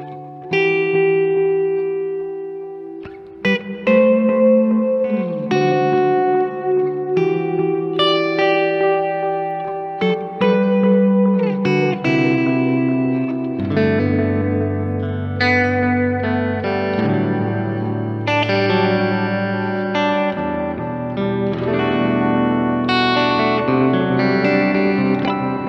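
Caline Ragnarok guitar pedal with delay and reverb engaged together, giving sustained guitar notes and chords that wash into long repeating echoes and a reverberant tail, loud and continuous with no talking.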